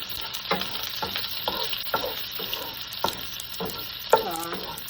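Chopped onion and garlic sizzle steadily in hot olive oil in a pan, with a continuous frying hiss broken by repeated scraping strokes of a spoon stirring the pieces, close and moderately loud.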